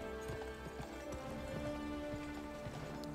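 Horse hooves clip-clop in a steady trot in the Western video game Gun, a quiet rhythmic beat under faint background music.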